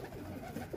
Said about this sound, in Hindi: अभी दाना शाना डाला कबूतरों को, तो कबूतर आ गया।